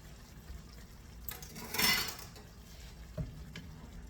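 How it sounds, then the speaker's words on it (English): Peas being stirred into braised asparagus and radishes in a pan: a soft scraping, rustling swish that swells briefly in the middle, with a faint low knock near the end and a quiet background. "now you're going to stir in 2 cups of peas"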